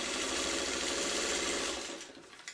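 A sewing machine stitches a quilt block in a fast, even, loud mechanical whirr close by, then winds down and stops near the end.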